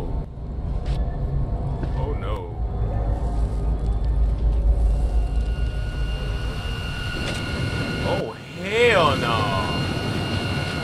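Loud, steady airplane engine rumble inside the cabin, with a brief dip followed by a rising whine and tonal sweep as the engine grows louder.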